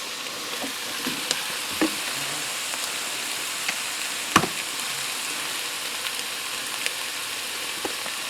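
Meaty chicken thighs sizzle and fry steadily in a pan, a close, even crackle with a few brief clicks and taps of the pieces going in, and no talking.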